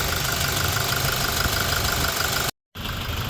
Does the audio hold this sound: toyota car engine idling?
yes